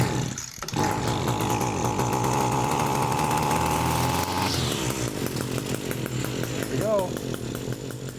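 The small two-stroke engine of an Echo SRM-225 string trimmer revving loud and close as it clears excess fuel from the cylinder, a steady high buzz that wavers and drops in pitch partway through.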